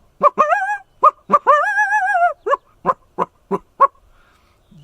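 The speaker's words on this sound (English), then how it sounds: "you hear this, the bark howl." A coyote in Yellowstone gives a bark howl, a warning that wolves are nearby: sharp barks, then two drawn-out howls, then a string of evenly spaced barks, loud and alone.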